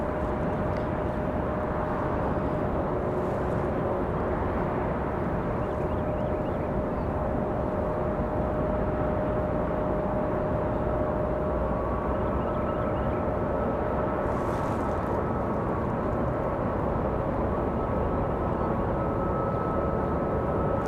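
A jet airliner rolls for takeoff at Raleigh-Durham International Airport, a broad, sustained roar of engine noise heard from a distance that stays loud and steady throughout, with faint tonal whines riding on top and no talking.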